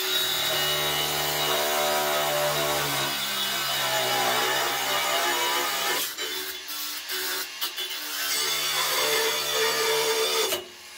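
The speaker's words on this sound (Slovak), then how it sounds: "Uhlová brúska má aj na prvej rýchlosti dostatočne dobrú silu, aby ste odrezali rôzne materiály." A Bosch GWX 18V-10 SC cordless angle grinder cutting material, a loud sustained whining buzz that dips and breaks briefly near the end as the disc works through the cut.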